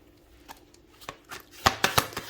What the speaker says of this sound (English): Okay, so I'm going to begin shuffling